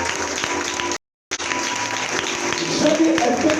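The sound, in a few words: congregation cheering and applauding loudly for God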